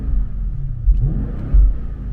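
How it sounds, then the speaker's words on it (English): BMW X6 M Competition exhaust heard from inside the cabin: a deep, steady rumble with two brief swells as the engine is revved, no talking over it. "I just want y'all to hear that exhaust sound a little bit from the inside."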